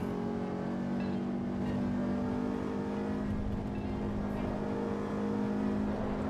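A race car engine in the racing game Assetto Corsa EVO, during online community racing, drones with a steady, continuous, moderately loud tone and no talking over it.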